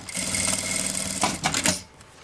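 A sewing machine runs a continuous rapid stitch along bias binding on a bag, close and fairly loud, then slows to a few short bursts before stopping.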